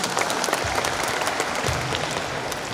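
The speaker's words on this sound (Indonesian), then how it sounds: "Kita tepuk tangan untuk bahasa kita." An audience at the opening of a Dawan language event in 2023 claps together, a dense, steady round of applause nearby that carries through without a break.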